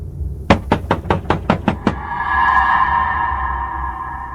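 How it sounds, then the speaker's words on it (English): Eight quick hollow knocks on a door in a steady run, loud and close, followed by a sustained eerie tonal drone as the knocking stops. "just then, the knocking sounded again."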